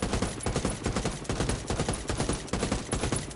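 Burst-mode gunfire in Ghost Recon Wildlands, fired without recoil control, as loud clustered volleys of shots in uneven groups over a few seconds, with no talking.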